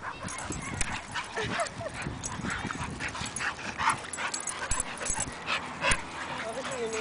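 Dogs play and bark in a yard with yips, whimpers and panting scattered throughout, while a person talks over the scuffling commotion.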